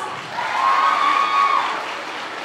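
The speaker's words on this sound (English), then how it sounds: "So give yourself a big round of applause." Crowd of college women applauding and cheering at a song launch event, a sustained wash of clapping that swells and fades over a couple of seconds, with voices mixed in.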